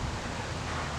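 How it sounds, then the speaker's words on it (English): Broad, rushing wind noise roars steadily across the microphone, a constant loud buffeting with no other distinct sounds. "It's windy out here today"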